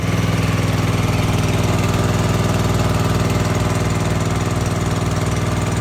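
Bush hog mower engine running loud and close in a continuous, even drone with a steady throbbing rumble and no pauses.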